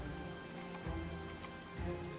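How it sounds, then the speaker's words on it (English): Steady, soft rainfall at night in the video game Battle Brothers, an even hiss of falling drops with a faint low rumble swelling a couple of times. "It's raining and it's nighttime"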